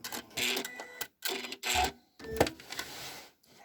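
A sewing machine stitching through fabric and folded paper in foundation paper piecing, running in short close bursts with brief pauses between runs, no voices.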